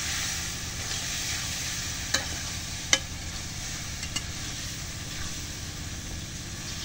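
Chicken meat going into hot spice paste in a pan, sizzling steadily and loudly with a few sharp scraping stirs, no talk.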